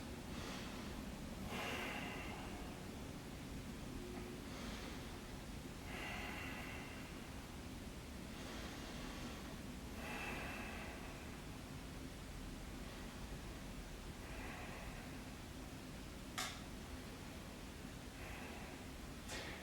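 Slow, steady breathing while holding a yogi squat in a couples bedroom yoga session, several soft inhale-exhale cycles spaced a few seconds apart over a constant hiss of background noise, with one brief sharp sound near the end.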